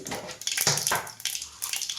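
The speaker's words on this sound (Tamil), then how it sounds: "நல்லா அந்த ஆயில் காஞ்சதும் கொஞ்சோண்டு கடுகு, கொஞ்சம் போட்டால் போதும்." Mustard seeds spluttering in hot oil, a quick run of sharp, crackling pops and sizzles close by, uneven and bursting, with no talking.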